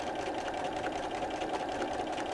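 A sewing machine top-stitching a baby burp cloth with neutral thread at a 2.5 stitch length, its rapid, even whirring and needle rattle running steadily and close without pause.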